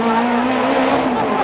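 Race car driving steadily on cold tires, a loud continuous engine drone with faint tire noise, heard up close alongside a speaking voice.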